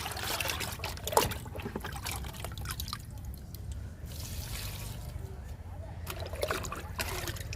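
Liquid fertilizer is poured onto a plant in a home garden, a faint, soft trickle and dribble of liquid heard close by against quiet background noise.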